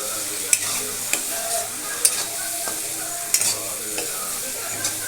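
Tomato egg masala is stirred and sautéed in a pan, a soft sizzle under scattered scraping clacks of the spoon against the pan, close and intermittent.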